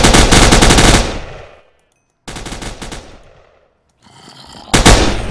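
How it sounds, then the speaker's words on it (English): Bursts of loud rapid automatic gunfire from the zombie video game Fear the Walking Dead, two long volleys separated by near-silence, then a fainter scuffling stretch before another burst starts, with no talking. "The sound of the bullets going out of the gun was really loud."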